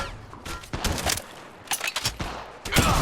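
Rapid gunfire in Apex Legends: bursts of sharp, close shots come in uneven clusters, with crackling volleys and short gaps between them, and no talking over the shooting.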